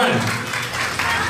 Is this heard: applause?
yes